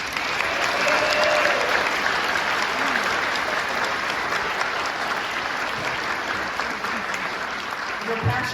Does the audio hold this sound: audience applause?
yes